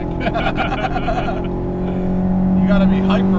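A 1998 Acura Integra GSR all-motor build with its engine pulling up into VTEC, heard from inside as a loud, steady rising drone, with a person talking over it.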